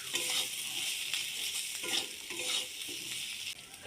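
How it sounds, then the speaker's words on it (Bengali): Ground spices and slit green chillies sautéed in a pan, a steady moderate sizzle with rhythmic spatula strokes scraping the pan every half second or so, close by, without speech. "দুটো কাঁচা লঙ্কা চিড়ে রেখেছিলাম, ওটাও দিয়ে দিলাম, দিয়ে ভালো করে কষিয়ে নেব।"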